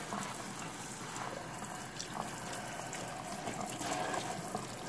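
Steady running water pours from a tap as a hydro-dipped part is rinsed off, producing a constant, close, hissing splash with no breaks and no speech.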